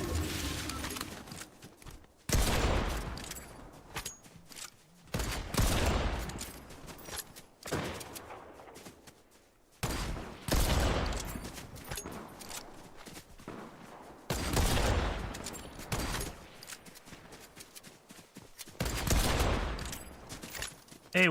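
Gunfire in a Fortnite Battle Royale match comes in repeated bursts of shots, roughly eight loud volleys separated by brief pauses.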